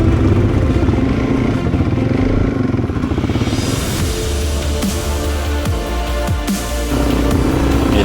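A Suzuki DRZ400 motorcycle rides a sketchy sandy forest track. The engine drones steadily and loudly, with clatter and bumps from the rough ground, and no voices are heard.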